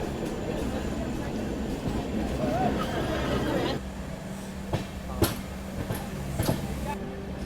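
A train on the Goa to Londa line past Dudhsagar waterfall, a route busy with goods trains, gives a steady close rumble that drops to a quieter roll with scattered sharp clanks and clicks.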